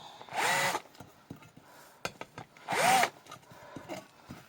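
Drill press boring into a LiPo battery plate in two loud, whining bursts separated by clicks and handling noises, with the motor pitch rising as each bit spins up.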